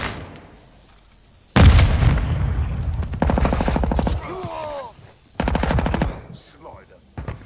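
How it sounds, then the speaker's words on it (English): A flash grenade is thrown amid gunfire in Modern Warfare II, with loud, close bursts of rapid machine gun fire broken by short pauses and a brief warbling chirp between volleys. "Throwing flash grenade"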